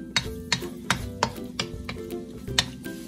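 Garlic hitting hot oil in a pan while cooking pancit, a soft steady sizzle broken by a regular series of clanking stirs from a utensil against the pan, close and fairly quiet.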